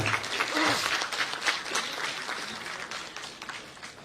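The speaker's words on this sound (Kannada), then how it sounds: "ಅದಕ್ಕೆ ಅವ್ರನ್ನ ಗೌರವಪೂರ್ವಕವಾಗಿ ಎಲ್ಲರೂ ಚಪ್ಪಾಳೆ ಮುಖಾಂತರ ಸನ್ಮಾನ ಮಾಡೋಣ ಅಂತ" An audience claps in honour of Rajendra Singh Babu at a Kannada gathering, a broad burst of applause that starts full and slowly thins and fades over about four seconds, with some voices mixed in.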